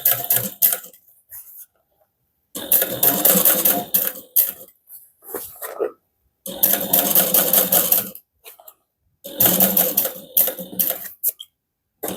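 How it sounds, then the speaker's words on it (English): Sewing machine top stitching an eighth-inch seam on a harmonica hobo bag, loud close bursts of rapid stitching in four long runs separated by silent pauses and small handling clicks. "then top stitch using a 1/8 inch seam allowance"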